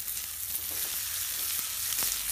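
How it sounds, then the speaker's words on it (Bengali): Onion sizzles steadily in a small amount of hot oil for a Bengali river stingray fish curry, a dense continuous frying hiss with occasional soft stirring clicks, close and alone. "পেঁয়াজটা প্রায় ভাজা হয়ে গেছে দেখুন"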